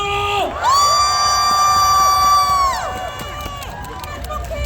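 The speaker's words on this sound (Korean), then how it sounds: "다같이 박수와 함성!" A crowd cheers and shouts at an outdoor Buddhist lantern festival concert in Incheon, with one long high sustained whoop or whistle rising above the loud, steady roar before it tapers off.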